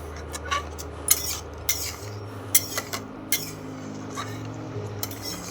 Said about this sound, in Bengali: এটাকে আরেকবার নেড়ে নিচ্ছি